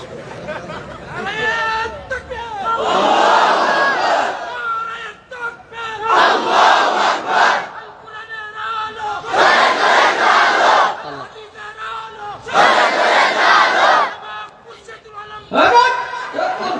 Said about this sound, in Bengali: তাহলে 2-3 জন দাঁড়িয়ে স্লোগান দেয়